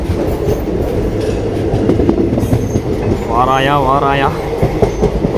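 A passenger train running at speed on the Coimbatore to Chennai route, heard from on board as a loud steady rumble and clatter of wheels on track, with a brief warbling tone partway through and a voice speaking over it.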